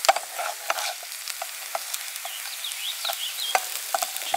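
Hash browns fry in a pan at a high-mountain backpacking camp, giving a close, busy crackle and sizzle. Frequent small pops and stirring scrapes run throughout, with no voices.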